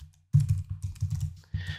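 Rapid clatter of keystrokes on a computer keyboard while a username and password are typed in, the tapping bursts close and fairly loud after a brief pause at the start, with a short final flurry.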